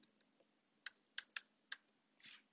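A computer keyboard typed on while a username is entered to create a Gmail account: about half a dozen sharp, separate key clicks at an uneven pace, close and clear over a quiet room, ending in a quick flurry of keystrokes.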